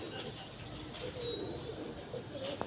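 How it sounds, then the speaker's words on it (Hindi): Soft, low pigeon coos from a large pet pigeon kept in a pigeon-breeding loft, faint and close, repeating a few times over a steady background murmur that may carry distant voices. "ये बड़ा कबूतर है मेन।"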